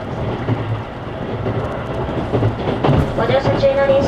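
A JR East 255 series limited express train rumbles steadily along the rails with a rhythmic clatter of wheels, heard from inside, and a faint onboard announcement murmurs in the background.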